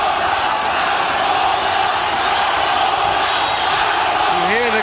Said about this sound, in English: You hear the crowd chanting for Zaragoza, Zaragoza.